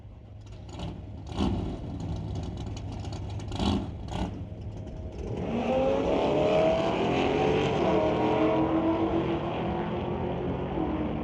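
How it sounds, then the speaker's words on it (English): Drag race launch with a 5-liter Mustang GT facing an S10 pickup: quieter idling and brief engine blips at first, then a loud sustained roar of both engines accelerating hard down the strip, no talk. "Steve Baskerville once again with that 5-liter Mustang GT going up against Richard Love"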